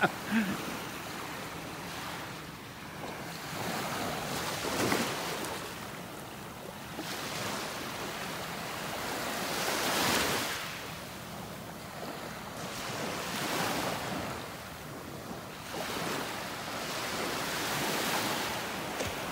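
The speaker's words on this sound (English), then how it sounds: "Listen to those waves." Ocean waves roll onto a beach in North Naples, Florida, on a Saturday morning, with slow, swelling surges every few seconds under steady wind noise buffeting the microphone.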